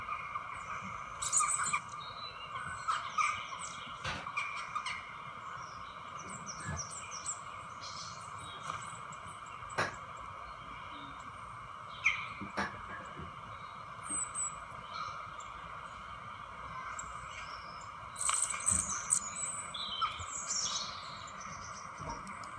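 A bird calls in short chirping bursts, near the start and again toward the end, with a quieter stretch and a low background hum between them.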